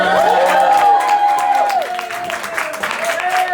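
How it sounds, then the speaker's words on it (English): Comedy club crowd at a bar applauding and cheering as a comedian is introduced, clapping mixed with whoops and shouted voices, fairly loud and close. "You guys give a fucking round of applause for David Feinberg."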